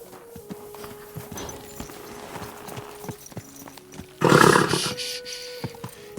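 Horse hooves clopping in the medieval game Kingdom Come: Deliverance 2, a steady soft clip-clop under ambient hum, then a loud burst of noise near the end drowns them out.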